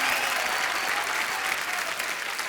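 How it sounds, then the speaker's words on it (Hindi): Studio audience at a Hindi comedy talk show bursts into sustained, dense applause, loud and steady throughout with no voices over it. "जोरदार तालियां।"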